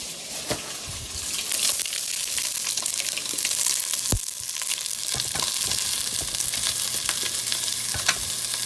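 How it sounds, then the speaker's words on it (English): Sausage frying over medium-high heat and being broken up in a pan: a loud, steady sizzle with repeated scraping and knocking of the utensil breaking it apart, close up and without speech. "you just want to break it up so it gets nice and crumbled up in there"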